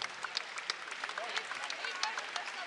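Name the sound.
crowd applause at basketball game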